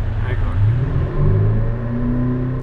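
Tesla fitted with a simulated exhaust sound system, playing a synthetic engine rumble that rises and swells like revving, steady and loud throughout, with voices talking over it.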